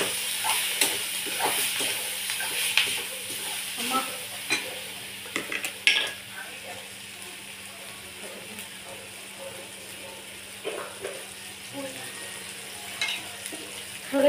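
Egg bhurji mixed and stirred in a frying pan makes soft sizzling with frequent clinks and scrapes of a utensil against the pan, busier at first and sparser later.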